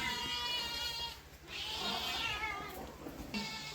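A cat meows in a village home, repeated calls over steady background noise and household clatter, with no talk.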